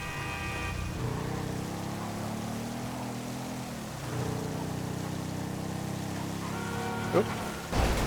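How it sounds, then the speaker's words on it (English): Steady rain in a broadband wash under a low engine drone, while driving, with a couple of brief knocks near the end. "I'm actually loving this rain."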